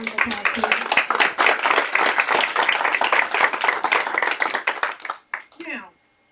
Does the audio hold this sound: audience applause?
yes